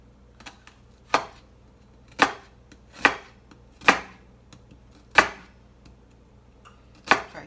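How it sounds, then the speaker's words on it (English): A knife slicing an onion on a cutting board, seven sharp, close chops at an uneven, unhurried pace with quiet gaps between them and no talking. "Now that we're done cutting, we're just going to cut it off, and we've got our nice sliced onion."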